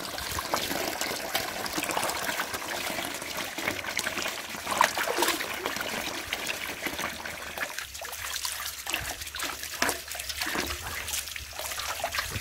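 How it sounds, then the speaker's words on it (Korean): Radishes for winter kimjang storage are washed clean of soil under running water, giving a steady close trickle and splash that continues throughout with small shifts in flow and no talk. "깨끗이 씻습니다. 흙이 하나도 없이."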